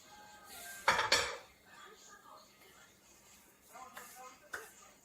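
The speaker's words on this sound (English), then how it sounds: "I use a nice stainless steel pan" A stainless steel pan clanks as it is handled on the stove, two sharp metallic knocks followed later by lighter clinks, with a person talking quietly around them.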